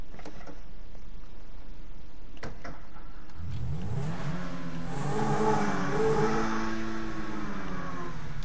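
Lamborghini in GTA V starting up and revving, a quiet few seconds giving way to a rising, sweeping engine roar that builds and holds loudly near the end.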